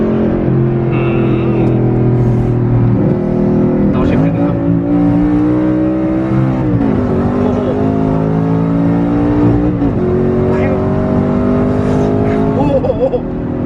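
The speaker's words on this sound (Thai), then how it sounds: "ได้เสียงเทอร์โบมาเลยเนี่ยครับนี่ครั้งแรกที่ขับทวินเทอร์โบ R8 เล ยนะ" A twin-turbo Liberty Walk Audi R8 is driven on the road, its engine droning steadily and rising and falling in pitch as it accelerates. Voices talk over it throughout.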